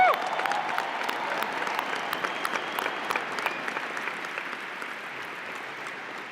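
A large conference audience at Web Summit 2018 in Lisbon applauds and cheers, producing dense clapping that starts loud and gradually fades, with scattered whoops and no clear speech.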